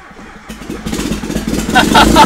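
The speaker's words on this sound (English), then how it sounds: "we're going to hook a wire up to the starter solenoid and give that thing straight 12 volt from the battery to see if the car will start." A turbocharged Mazda Miata with 450 cc injectors cranks and catches when its starter solenoid is fed straight 12 volts from the battery, the engine sputtering into a rising, rough run with people talking over it.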